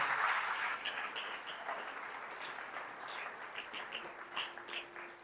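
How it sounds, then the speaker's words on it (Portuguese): Congregation applauding during a church service, a steady broad wash of clapping hands lasting throughout, fairly distant and even, with no talk over it. "Essa era uma boa hora para você aplaudir Jesus"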